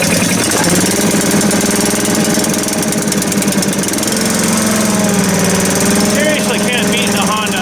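A Honda engine idles steadily on a tractor-mounted leaf vacuum with a loud, close, even chugging beat. Its note wavers slightly partway through.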